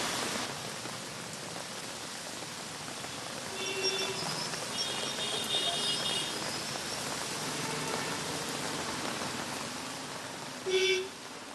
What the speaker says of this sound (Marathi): सतत पाऊस सुरू आहे